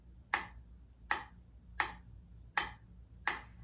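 Five evenly spaced sharp clicks, like a metronome ticking quarter-note beats in 4/4 time, each crisp and isolated against near silence.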